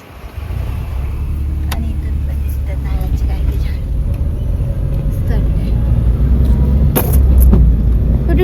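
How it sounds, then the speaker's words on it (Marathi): A car drives on a road near a bridge lined with coconut palms in Konkan, its engine a low steady rumble with wind noise, slightly rising toward the end. "चलो गाडी चालू करू"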